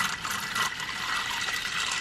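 Water pours steadily into an Instant Pot holding dry beans, a continuous close splashing gush that fills the whole stretch.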